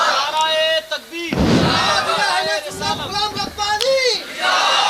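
Crowd at an annual religious gathering shouting back in unison in response to the Naara-e-Takbeer slogan, loud and close, with a shouted voice leading the call and a swelling roar of many voices answering.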